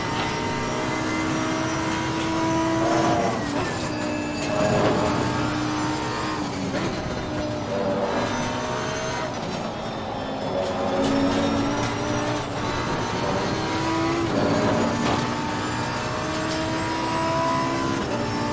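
A badly damaged race car running laps at Silverstone in Assetto Corsa Competizione, its engine droning steadily with repeated rising and falling pitch sweeps as gears change.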